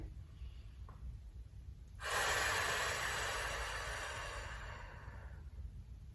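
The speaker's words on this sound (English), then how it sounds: "one more nice deep breath" A single deep, forceful exhale during a Pilates exercise, a loud breathy rush that starts abruptly and trails off over a few seconds, heard close up against a quiet room with a low background hum. No one speaks.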